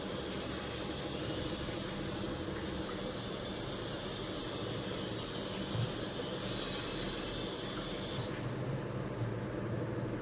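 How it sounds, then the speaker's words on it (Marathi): Lentils being rinsed in water before cooking, for a Khandeshi dal dish: a steady, even wash of running, splashing water fills the whole stretch without pause, with no voices. "आता ही डाळ स्वच्छ धुवून शिजायला टाकत आहे"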